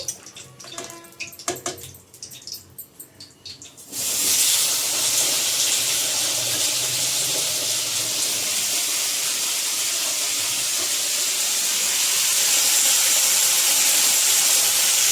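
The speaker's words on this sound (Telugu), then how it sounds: "ఈ వంకాయలు కటింగ్ చేసి పెట్టిన వంకాయలు మొత్తానికి కళాయిలు వేసేద్దామండి" Cut eggplant pieces hit hot oil in a kadai, bursting into a loud, steady broad sizzle that holds for about eleven seconds after a few clattering kitchen sounds.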